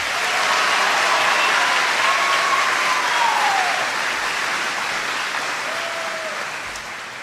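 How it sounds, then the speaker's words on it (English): Steady, loud audience applause at a senior recognition day, a broad continuous wash of clapping that holds for several seconds before slowly tapering, with a faint tonal whistle-like sweep running through it. "Let's give all the student speakers this morning a round of applause."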